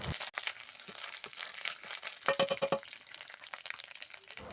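Garlic and ginger frying in a pan for a singi fish curry, a steady close crackle with sharper bursts of stirring and scraping partway through, no voices.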